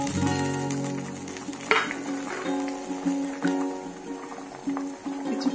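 Pieces of boal fish slip into a pot of boiling curry with a soft splash, followed by steady bubbling and light sizzling over a continuous electric hum.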